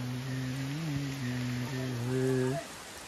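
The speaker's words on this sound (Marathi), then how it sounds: "आता पाऊस पडतोय, खूप छान वातावरण आहे" Rain falls at Raigad fort during the Shivrajyabhishek coronation ceremony, a steady soft hiss across the whole clip with a sustained droning tone layered over it until it cuts off near the end.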